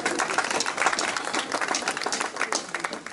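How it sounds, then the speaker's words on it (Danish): An audience claps before a stage play, a steady, dense patter of many hands heard from a moderate distance, sustained evenly throughout without a clear voice over it. "Og der vil godt klappe"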